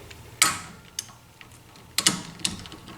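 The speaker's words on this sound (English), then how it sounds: "I'm ratcheting back so I get that downward motion, that torque." A ratchet wrench is worked in short, sharp clicking bursts while tightening wheel spacer bolts on a Tesla Model 3, loud and close with brief pauses between strokes.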